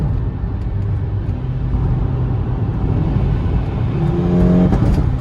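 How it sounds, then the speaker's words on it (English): A modified 350 bhp Volkswagen Golf GTI engine with a fault surges erratically while driving in gear, a loud, close, continuous drone that climbs in pitch and rises in volume toward the end. "The revs just freaked out."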